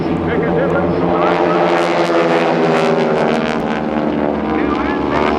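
Four propeller aerobatic airplanes of the Aeroshell team at the Dayton Airshow roar loudly and continuously overhead, engine tones rising and falling as the formation breaks apart, with brief louder swells.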